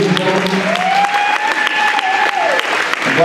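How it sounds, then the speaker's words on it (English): Audience applause for volunteers at a comedy hypnosis stage show, steady loud clapping filling the room for about three seconds, with a rising tonal swell from music or feedback running underneath. "Big round of applause for our volunteers, ladies and gentlemen."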